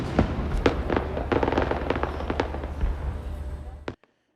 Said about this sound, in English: checking out the fireworks.